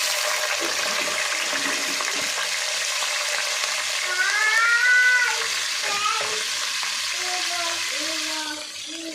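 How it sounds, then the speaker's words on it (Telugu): Green chillies dropped into hot oil with cumin sizzle and fry steadily, a close crackling hiss with stirring and some whistling steam, and no talk over it. "ఇక పచ్చిమిర్చి వేస్తున్నా."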